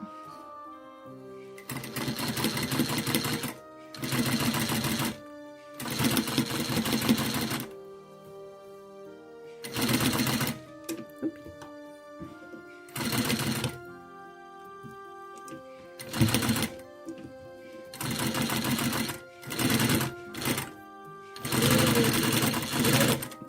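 A sewing machine stitches cotton fabric for a washable face mask without elastic, running in about ten loud, whirring bursts of a few seconds each, split by short quiet pauses and close to the mic.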